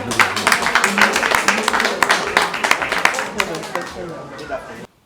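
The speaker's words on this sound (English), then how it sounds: "Give a round of applause." An audience at a Rotary club event applauds with a loose, uneven patter of claps for several seconds, some chatter underneath, before the sound cuts off abruptly.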